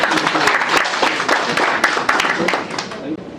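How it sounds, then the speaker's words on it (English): A room of attendees at a seminar on third-party risk management gives a dense, sustained round of applause for the speaker, loud and close throughout. "can we have a heartfelt round of applause for sir again?"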